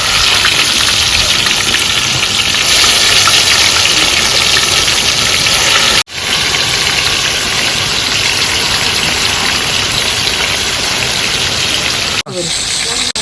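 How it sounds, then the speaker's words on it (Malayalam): Loud, continuous sizzling and crackling of chicken frying in hot oil, a dense hiss that briefly cuts out twice before resuming. "എണ്ണ നല്ലപോലെ ചൂടായിട്ടുണ്ട്. ഇതിലേക്ക് നമുക്ക് ചിക്കൻ ഇട്ട് കൊടുക്കാം."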